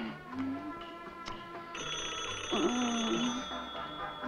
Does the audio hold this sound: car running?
no